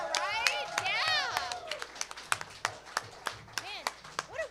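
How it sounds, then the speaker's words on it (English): An audience at a campus theatre show claps steadily in a broad round of applause, while hosts talk and whoop loudly over it near the start. "let's give a round of applause for all of our talent today"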